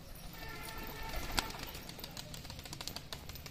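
Desi Giribaz pigeons coo softly and continuously, with a brief rustle of activity near the start, heard close by without any talk.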